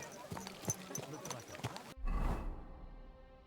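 Horse hooves clip-clopping on a ride in Kingdom Come: Deliverance II, a handful of quick, irregular taps at moderate distance, followed by a brief burst of rushing noise and a low rumble.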